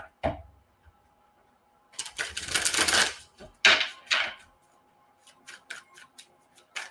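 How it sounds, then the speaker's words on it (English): Tarot cards being shuffled by hand, bursts of riffling and flicking card noise close up, a sustained rustle followed by a few sharp snaps and lighter taps with quiet gaps between. "Now I'm going to shuffle differently. We're going to do different shuffles."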